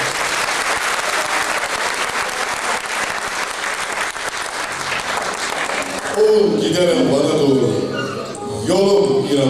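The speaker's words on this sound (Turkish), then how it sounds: "Bir alkış alalım. Kocaman." Concert audience at a 2007 show in Van claps loudly and steadily under an announcer's voice, and the applause fades as music and singing begin in the final seconds.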